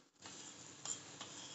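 Masala coffee boiling in a pot is stirred with a utensil, giving a soft bubbling hiss with light scraping taps, close and quiet.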